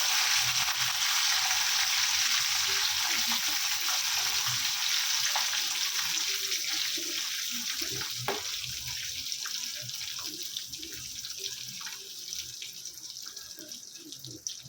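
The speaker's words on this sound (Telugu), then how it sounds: "కొంచెం ఫ్రై అయ్యే వరకు మనం కొద్దిగా వెన్నమిర్చి వేసుకుందాం" Chillies frying in oil in a pan, a steady loud sizzle that hisses throughout and eases slightly toward the end, with faint stirring sounds underneath; no talking.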